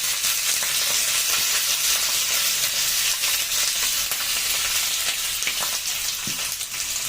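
Dried red chillies, green chillies, curry leaves and a pinch of asafoetida fry in hot oil for a lemon rice tempering, giving a loud, steady, crackling sizzle throughout with no talking.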